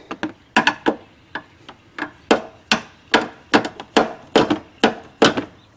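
Screwdriver handle tapping on a stuck part of a 1995-99 Monte Carlo / 1995-01 Lumina headlight during disassembly: a steady series of roughly a dozen sharp, close wooden-sounding knocks, fairly evenly spaced and alone.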